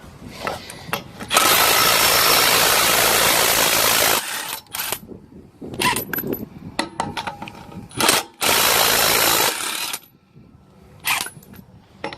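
Milwaukee M12 and M18 cordless impact wrenches hammering on car and truck wheel nuts, loud close rattling bursts of several seconds separated by short quiet gaps and brief clicks.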